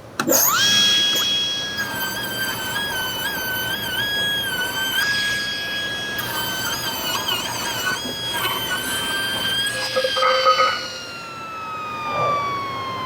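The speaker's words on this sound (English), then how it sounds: "I'm just going to rip 2 strips that will become my cube pieces." A table saw rips a thick board into strips for Kubb game pieces, its loud high whine holding steady with small dips in pitch under load before the blade winds down.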